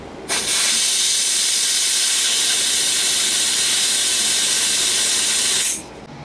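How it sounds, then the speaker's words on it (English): Liquid CO2 blasts through an HVAC suction and liquid line set to purge out old oil, a loud steady hiss starting abruptly and holding for about five seconds before cutting off. "I have compressed liquid CO2, and I can purge the old oil out of the suction line and the liquid line."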